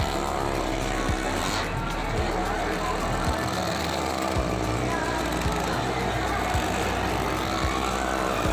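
A motorcycle engine runs in a well-of-death stunt arena, a loud, continuous drone that holds steady throughout with no clear pauses.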